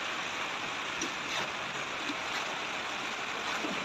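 Rain pours steadily on a construction site with concrete beams and rebar work underway during a typhoon, a dense continuous hiss with scattered louder drops and no voices.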